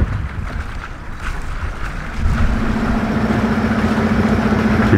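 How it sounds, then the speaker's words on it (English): A sailboat's engine starts about two seconds in and settles into a steady low idle, close and loud under heavy wind noise at an anchorage off Fanning Island. "We gotta start the engine."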